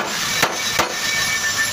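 A plastic mallet taps twice, lightly and briefly, on a drill's gear part, with a steady hiss in the background.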